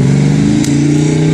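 A Land Rover 101 forward-control military vehicle with a Rover V8 3.5 litre petrol engine runs close by, a loud, steady throbbing idle with a smooth low drone throughout.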